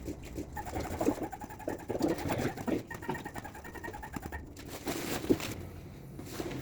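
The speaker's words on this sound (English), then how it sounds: "once you start feeling the pressure and it gets harder and harder to pump, that's a sign of that air tube is starting to get full." Rhythmic hand-pump strokes push air into an RV inflatable annex air tube, a steady repeating squeak and whoosh at close range with no talking.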